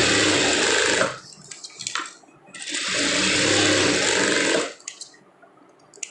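A sewing machine stitches a lined blouse in two long, steady whirring runs, each a few seconds, separated by brief pauses filled with small handling clicks, loud and close with no talk.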